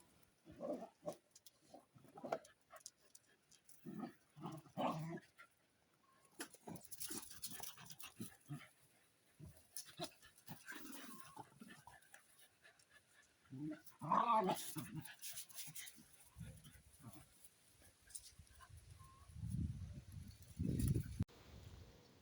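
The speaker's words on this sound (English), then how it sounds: "This is just 30 seconds of dogs having a great time" Several dogs romp and play outdoors, with bursts of growling, panting and scuffling close by in intermittent clusters, broken by short quiet gaps.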